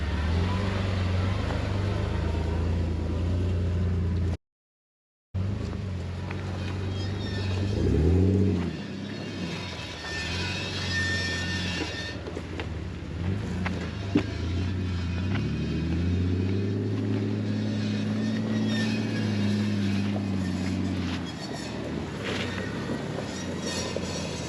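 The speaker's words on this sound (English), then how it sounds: "That's every time I let off the throttle." A badly worn off-road vehicle on a snowy winter trail lets off the throttle, its engine droning low and loud with rising and falling rumbles and whining tones, a short gap of silence early on.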